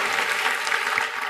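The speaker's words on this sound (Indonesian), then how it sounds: "Beri tepuk tangan untuk Tuhan." A church congregation claps in dense, continuous applause, loud and even throughout the short stretch.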